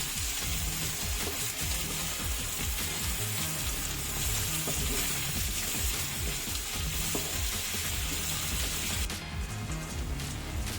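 Bitter gourd pieces fry in a pan for a jaggery pulusu, giving a dense, continuous sizzle with occasional stirring clatter, close and steady throughout.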